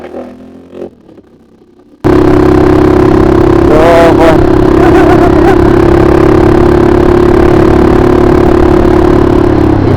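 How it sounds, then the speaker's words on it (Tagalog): A newly bought UC 200cc sports motorcycle starts abruptly after a quiet moment with a little talk, then runs loud and close with a steady idle and a few brief revs. "Tignan natin yung lakas nitong ating bagong kuhang motor"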